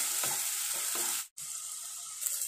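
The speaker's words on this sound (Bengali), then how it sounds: "আর একটু আবার কষিয়ে নিচ্ছি আমি" Ginger-garlic masala sautés in a pan for a prawn malai curry, giving a steady close sizzle that cuts out abruptly for a moment, then resumes.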